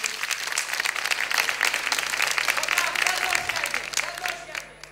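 Studio audience at a Turkish folk music television program claps enthusiastically, a full, continuous roar of applause with a low steady hum underneath that thins slightly toward the end.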